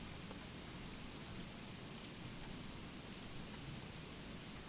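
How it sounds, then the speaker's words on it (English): Steady, even rainfall in the video game Don't Starve, with soft patter, continuous and unbroken, no voices. "I really just like listening to rain."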